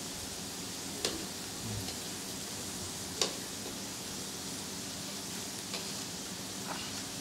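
Garlic and red chili frying in a pan give a steady, soft sizzle, with a few faint clicks of a utensil against the pan.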